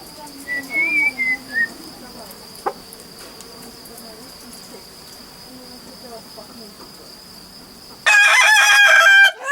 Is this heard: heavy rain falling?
no